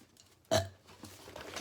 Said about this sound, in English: He burped, and his burp shook the throne of the king.